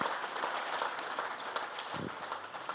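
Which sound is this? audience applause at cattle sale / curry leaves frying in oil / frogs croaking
audience applause at cattle sale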